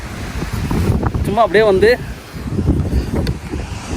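Strong wind gusts at a high, exposed viewpoint on a road trip through the Kerala hills, roaring and buffeting the microphone steadily while a person speaks over it and a brief whistle-like tone sounds.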